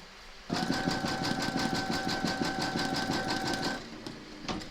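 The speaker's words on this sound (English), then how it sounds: "load your neutral thread colour into your machine, pop your hoop in and stitch round number 1" An embroidery machine stitches a placement outline in neutral thread on hooped fabric for an in-the-hoop notebook cover, a rapid rhythmic mechanical whir with steady needle pulses starting abruptly, running for about three seconds, then stopping; close and clear.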